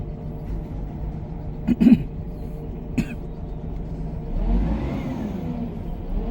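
The engine of an old truck-mounted mobile crane revs to power its four outrigger legs, a steady low rumble that swells louder toward the end, broken by a couple of brief sharp knocks.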